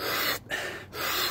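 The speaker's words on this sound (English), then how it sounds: "With 60 seconds of rapid breathing, just mostly focusing on the inhale." Two quick, forceful deep inhales through the mouth during rapid breathwork, each sharp gasp broken by a short pause, close and loud.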